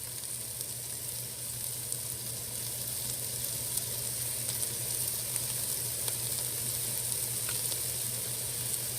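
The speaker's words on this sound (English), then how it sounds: "So cook the veggies till they're about translucent, probably about 4 or 5 minutes." Vegetables sizzle steadily in a pan over medium-high heat for a shrimp étouffée, a continuous close frying hiss with faint crackles and occasional stirring clicks, with no one talking.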